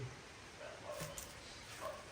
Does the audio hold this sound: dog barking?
yes